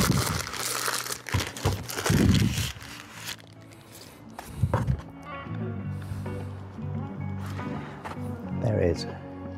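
A bag rustles and crinkles in loud, irregular bursts while a RevoPoint MetroY Pro 3D scanner kit is unpacked, with a voice talking over the handling.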